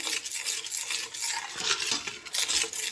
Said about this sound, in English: I will keep stirring till everything is melt.